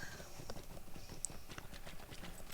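Horse hooves clip-clop through shallow water in the Lord of the Rings Online game, a quiet, rapid, steady patter with a faint chime partway through.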